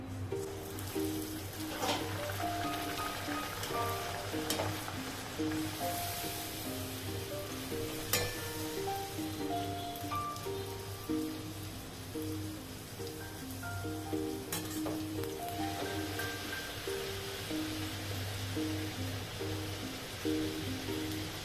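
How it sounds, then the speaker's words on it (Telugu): Puris deep-frying one after another in hot oil for a breakfast of puri and aloo curry, a continuous close bubbling sizzle with occasional faint clinks and ladle sounds. "ఇప్పుడు మనం ఒక్కొక్క పూరి ఆయిల్లో వేసుకుందాం"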